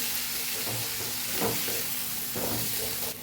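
A spoon stirring Kathiawadi sambharo, a Gujarati vegetable relish, after lemon juice is added, giving soft scraping and rustling strokes at an irregular pace against a steady hissing background.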